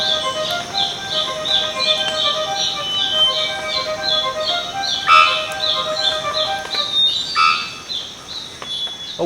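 Birds in the Monteverde cloud forest call in repeated squeaky, metallic phrases, loud and close, with several overlapping chirps and creaks over faint forest ambience.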